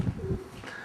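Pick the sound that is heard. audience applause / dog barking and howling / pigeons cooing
pigeons cooing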